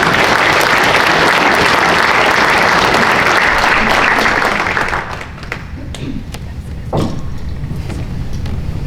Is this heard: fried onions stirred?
no